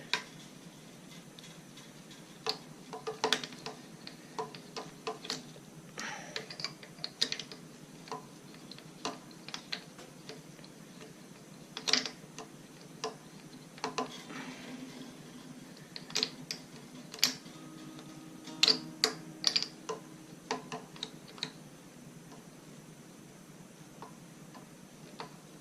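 Guitar tuning peg cranked by hand to wind on a new string, giving a steady run of small dry mechanical ticks and clicks at close range, some sharper than others, with no talking.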